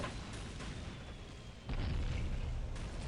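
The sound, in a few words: venom cannon explosions in Dawn of War Soulstorm video game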